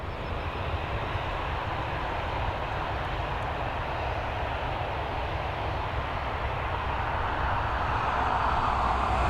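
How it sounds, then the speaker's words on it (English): Aircraft taxiing at Dublin Airport, a steady loud engine roar and broadband rumble that holds constant throughout, swelling slightly toward the end, with no voices. "Everywhere you look is aircraft coming to the taxiway."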